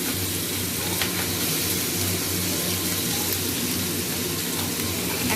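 Potatoes fry in hot oil with a steady, even sizzle that stays level and continuous throughout, with no talking over it.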